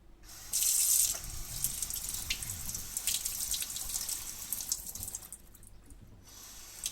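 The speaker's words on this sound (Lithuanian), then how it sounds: "Pažiūrėkit, pirktas brokolis iš parduotuvės, kažkuom apipurkštas, žiūrėkit, kaip ant jo vanduo bėga." Tap water runs over a store-bought broccoli head at a sink, a close, steady splashing rush that swells loudly at first, then continues more softly with dripping and a brief pause near the end.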